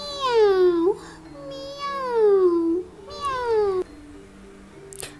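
A young voice imitates a cat with three drawn-out, falling meows in quick succession, close and clear, separated by short pauses.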